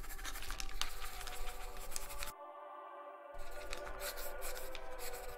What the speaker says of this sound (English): The sound of her pencil does not match up to the strokes she's drawing.